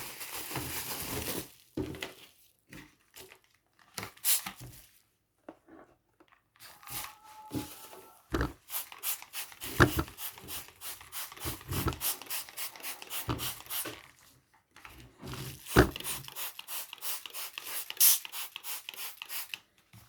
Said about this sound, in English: so we do more spraying, some more water in.